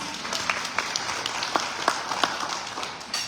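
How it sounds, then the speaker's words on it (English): Applause from a crowd at a black-tie gala, fairly soft and steady, with individual claps standing out irregularly over a continuous patter for a few seconds. "Give yourself a round of applause."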